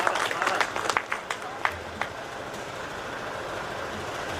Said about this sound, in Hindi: तो एक बार तालियों से आप लोग स्वागत कीजिए।